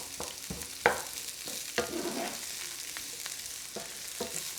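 Thinly sliced onions frying in a pan over medium-high heat, with a steady close sizzle and regular spatula scrapes and taps every second or so; no talking.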